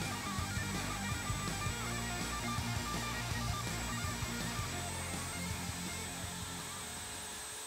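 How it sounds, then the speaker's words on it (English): A power tool runs steadily while trimming rough factory edges off hardwood strips for a side grain cutting board, making a continuous moderately quiet whirring hum with faint cutting texture. "we're going to go ahead and trim off the rough parts so we can have a nice smooth surface"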